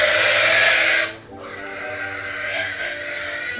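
A pig being readied for slaughter squeals loudly and continuously, a harsh piercing cry that breaks off for a moment before resuming, up close.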